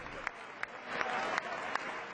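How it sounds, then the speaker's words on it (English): Members of Congress applaud President Obama at the State of the Union address, a dense, sustained clapping from a large chamber crowd, steady and fairly loud, with a faint voice underneath. "President Obama basking in the applause of Congress"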